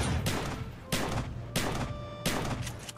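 Loud Call of Duty: Black Ops shotgun blasts, four booming shots spaced about a second apart, each with a sharp crack and a short rumbling tail.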